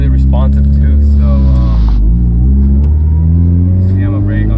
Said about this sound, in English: go for a little test drive around the neighborhood to test our brakes